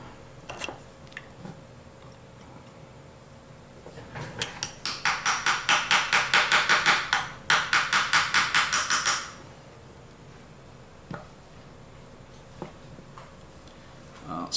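A stuck part of an SHS high torque motor being tapped out during cleaning: a fast run of sharp metallic hammer taps, two quick bursts in the middle, with scattered single clicks before and after.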